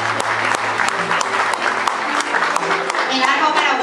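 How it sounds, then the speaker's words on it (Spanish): An audience at a live Paraguayan music event applauds steadily, with dense clapping and some crowd noise, loud and close, while a voice speaks over it. "En el bajo se encuentra Freddy Pérez, para quien pide un fuerte aplauso."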